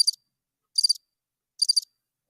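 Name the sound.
crickets chirping sound effect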